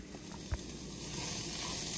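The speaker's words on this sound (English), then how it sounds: "now that the herbs have been sauteing for about 20 minutes" Chopped herbs for ghormeh sabzi sautéing in a pan: a dense, even sizzle that swells slightly louder, with one short knock of a utensil early on.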